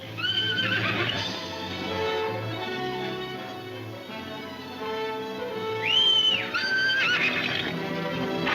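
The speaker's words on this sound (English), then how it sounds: "I got Benton's horse!" A horse in a Western setting neighs twice in loud, shrill whinnies, with hoof clip-clop and scuffling underneath, close and prominent throughout.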